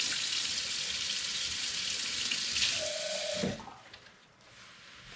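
Cold water running steadily from a tap during homemade horseradish sauce preparation, a loud continuous rushing stream that cuts off abruptly near the end, leaving a quieter room, no talking.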